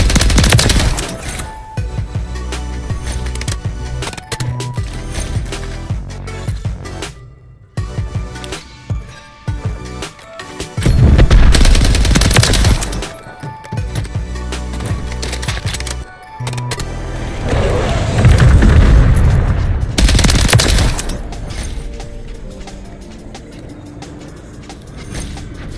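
Call of Duty gunfire from an STG 44 loadout rattles in loud automatic bursts, with pauses and heavier volleys as the fight goes on, and no talking.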